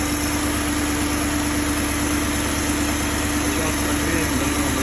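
A BMW M62B35 engine idles at a constant pitch while warming up. The drone is loud, close and unchanging, with no revving.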